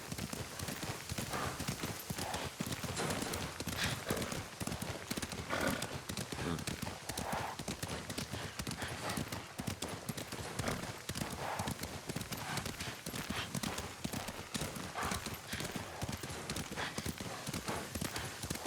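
Rapid hoofbeats clatter steadily throughout as horses gallop in the video game Ghost of Tsushima, with a dense, even rhythm. A faint whinny may be mixed in.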